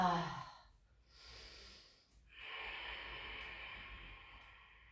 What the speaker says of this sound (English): Take some deep breaths here.